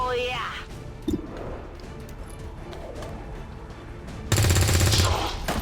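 Gunfire in the video game XCOM 2 Long War 2, a sudden loud crackling burst near the end, following a quieter stretch of game sounds with a voice talking over them.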